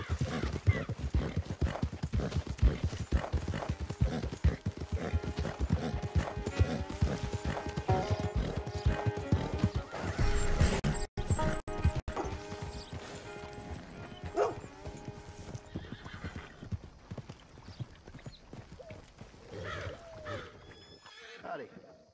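Horse neighing and hoof clip-clops in Red Dead Redemption 2 during free roaming, repeated hoofbeats and whinnies under game speech, a dog barking faintly in places and music-like tones in the background.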